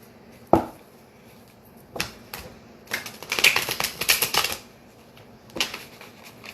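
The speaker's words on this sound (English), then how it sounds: "And then I'm going to shuffle twice." Tarot cards riffled and shuffled by hand, crisp papery bursts with taps in between, close up and quiet otherwise.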